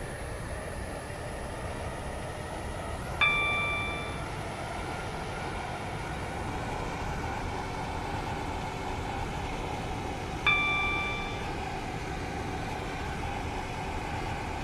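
A Roblox SCR passenger train on the waterline service runs with a steady, loud rumble throughout, while two bright chime tones ring out several seconds apart over the noise.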